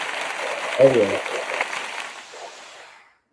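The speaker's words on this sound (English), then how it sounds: "let's give him a round of applause really quick" Cued applause on a sports recap show, a diffuse wash of clapping that runs steadily for about three seconds and then fades out.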